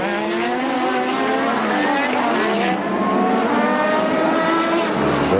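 Nelson Piquet's Formula One car screams through a qualifying lap at the 1986 Australian Grand Prix. The loud engine pitch rises and falls through gear changes, with other engines sounding beneath it and a commentator talking over it.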